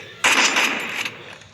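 A single gunshot in a shooter video game, a sharp loud burst that rings out and decays over about a second, heard alone without talk.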